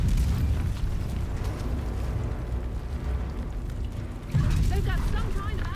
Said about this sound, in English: They've got some kind of active protection system intercepting our mortar rounds.